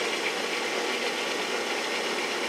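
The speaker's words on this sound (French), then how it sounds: "mon moteur plus l'alternateur." A small electric motor driving an alternator in a home-built test circuit, a steady, dense whirring drone with a faint rattle that holds an even level throughout, close by and without speech.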